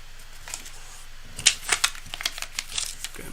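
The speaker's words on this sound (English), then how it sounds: "Okay, I'm going to shuffle." Tarot cards being shuffled by hand, a quick run of crisp riffling and slapping bursts that starts after a short quiet lead-in, close and fairly clear.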